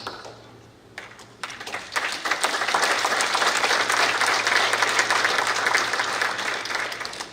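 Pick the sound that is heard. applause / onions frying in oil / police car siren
applause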